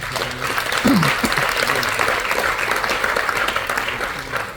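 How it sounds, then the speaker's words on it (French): Audience applause fills a SuperLife marketing presentation, a steady wash of clapping from a crowd held at an even level throughout, with a brief voice cutting in near the start. "Je pense qu'il est capital d'applaudir aussi pour SuperLife pour ça."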